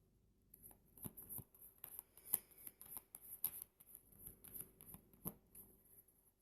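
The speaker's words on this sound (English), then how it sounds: "I'm continuing to shuffle here" Tarot cards are shuffled by hand close up, making quiet, irregular riffles, taps and soft slaps with no talking.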